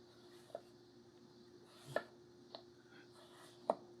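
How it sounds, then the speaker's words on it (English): A Takamura Chromax 210mm gyuto knife cuts food on a board, giving four or five crisp, separate chops at an uneven pace, close and fairly quiet against a faint background hum. "This knife is an absolute joy to cut with."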